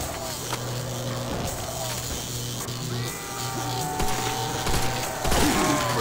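Gunfire rings out in Call of Duty Nazi Zombies on the Der Riese map, with sharp shots cracking through a busy mix of game noise and music, including a burst near the end.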